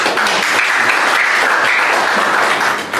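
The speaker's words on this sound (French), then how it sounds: "Si vous pouvez applaudir pour vous-même." A loud, dense round of applause from the audience at an ordinary and elective general assembly, steady for about three seconds before tapering at the very end.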